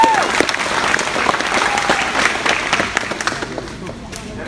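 An audience at a trapper rendezvous competition applauds to welcome a competitor, a loud, dense burst of clapping that carries on for several seconds before starting to thin out.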